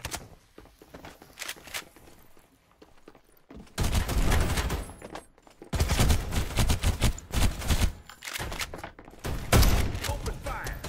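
Gunfire in the video game Farlight 84, rapid bursts of automatic shots coming in several loud clusters separated by short quieter gaps, with game sounds and faint footsteps between.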